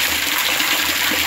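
Rainwater from a short roof gutter pours down a hanging chain into a large drum, making a steady, close, rushing splash with no voices.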